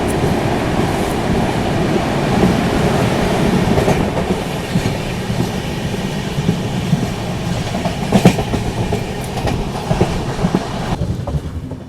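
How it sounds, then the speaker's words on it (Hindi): Rajdhani Express train running fast on rails while overtaking the Sachkhand Express, heard from inside: a steady loud rumble of wheels with clickety-clack joints and a few sharper rattles, continuous throughout. "यहाँ पर हम स्किप कर रहे हैं रानी कमलापति रेलवे स्टेशन को और ओवरटेक कर रहे हैं यहाँ पे सचखंड एक्सप्रेस को"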